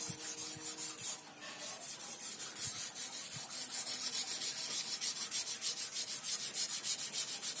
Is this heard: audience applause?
no